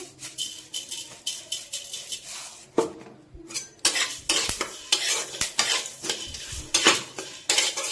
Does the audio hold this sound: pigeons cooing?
no